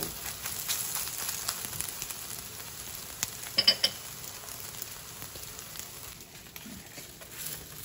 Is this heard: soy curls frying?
yes